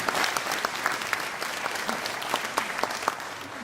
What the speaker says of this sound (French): qu'on peut applaudir d'avoir accepté ce travail.